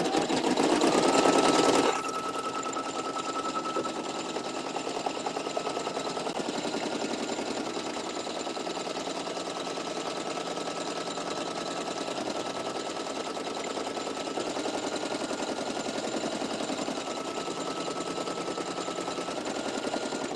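An embroidery machine runs a placement stitch for an embossed design, a rapid, regular mechanical clatter with a louder burst at the start, then steady stitching close by throughout.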